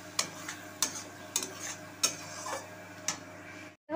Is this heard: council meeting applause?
no